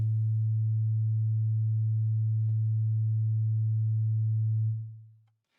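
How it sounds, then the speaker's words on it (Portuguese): A pure 110 Hz sine-wave test tone from a perfectly linear system holds steady and loud for nearly five seconds, then fades out quickly to silence. "Se a gente escutar esse seno, a gente vai escutar um sinal tonal porque o meu sistema é perfeitamente linear."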